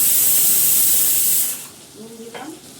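Potato dum hitting hot oil with cumin and asafoetida, a loud, bright hiss that dies down after a second and a half, then a faint simmer under a speaking voice.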